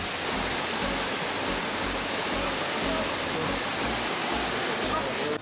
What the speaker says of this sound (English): Getting close towards the waterfall.